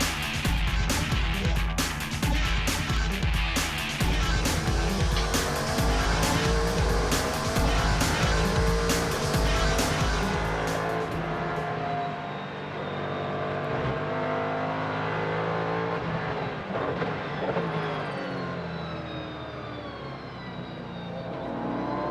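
Grand-Am Rolex Sports Car Series race cars roar past at Daytona in a loud, dense pack of engines, then fade into a lone car's rising and falling engine note heard from farther away.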